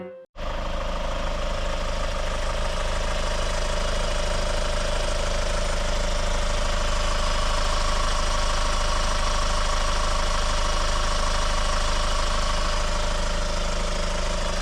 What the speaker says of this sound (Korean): 마지막은 상태 정말 좋은 엔진음 원본으로 들려드리겠습니다.